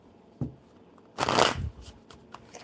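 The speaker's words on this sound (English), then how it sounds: "One more good shuffle." Playing cards are shuffled in a quick riffling burst after a single soft tap, close and crisp, followed by a few light shuffling sounds.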